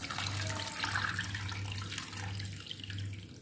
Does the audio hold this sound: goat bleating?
no